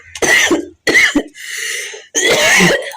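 Several harsh coughs in close succession, loud and near, with a brief throat-clearing rasp in between; no talking.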